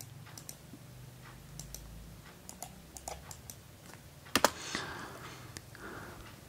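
Typing on a computer keyboard into PowerShell, a handful of light, scattered key clicks with a sharper double tap near the end, close and quiet, no voices.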